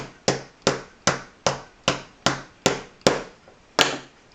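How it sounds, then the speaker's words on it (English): A small hammer tapping a radio knob trim ring into place, nine sharp, evenly spaced knocks about half a second apart, close and clear with short ringing decays and no talk. "tap it a couple times with a little hammer"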